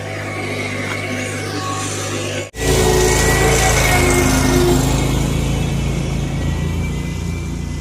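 A lawn mower cuts a yard in Maryville, Tennessee in March, its engine droning steadily, then briefly cutting out before surging back louder and running on close by.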